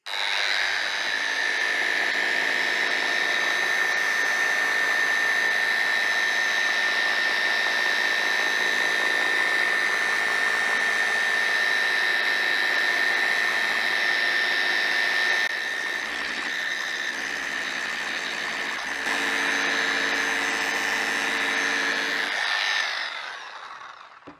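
A Bosch GET 75-150 eccentric sander in forced-rotation mode at first speed works on an acrylic sheet, a loud, steady whirring drone with a high whine that holds for over twenty seconds before winding down, no talk.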